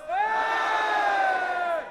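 Crowd at a youth MC battle final cheering to pick a winner, a sustained collective shout that swells quickly, holds for over a second and a half, then drops off.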